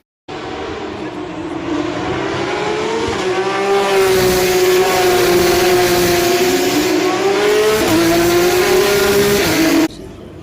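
Porsche Cup race cars at the Imola circuit scream past as loud engine drones whose pitch rises and falls with gear changes, heard continuously from trackside for about ten seconds before cutting off.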